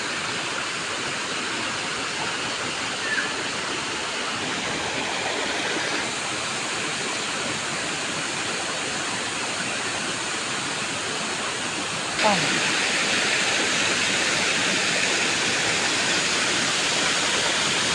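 Steady rushing water roars continuously, loud and close, like a stream or small waterfall, with no pauses.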